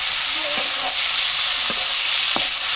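Boiled chickpeas fry with bay leaves and chilli in a pan over a village clay stove, a loud, even sizzle with a few sharp spatula knocks.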